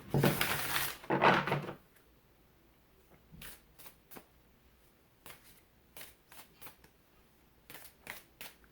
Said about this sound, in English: so let's shuffle, pull a card from the Natural Enchantments, Oracle deck.